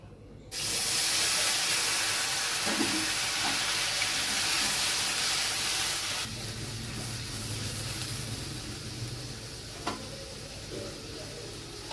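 Mustard, poppy seed and green chili paste hits hot oil with a sudden loud hiss, then settles into a steady, slightly quieter sizzle, close by and with no voices.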